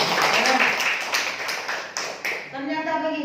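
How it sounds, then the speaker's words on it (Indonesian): A church congregation applauding, a dense wash of clapping from many hands that fades as a voice begins speaking over it. "tepuk tangan buat Tuhan"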